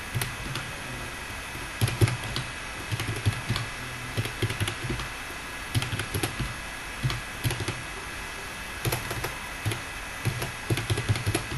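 Numbers being typed on a computer keyboard while entering data in a Microsoft Excel spreadsheet, with close, quiet clicky keystrokes coming in short irregular bursts over a faint steady hum.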